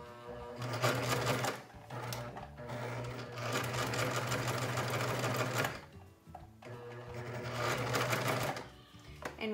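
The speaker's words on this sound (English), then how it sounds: "when I sew my ribbon in, I'm going to make a little rectangle here as I sew" A sewing machine stitches ribbon into a fabric surgical cap, running in steady rhythmic bursts of needle clatter with short pauses between passes, close and clear, with no talking.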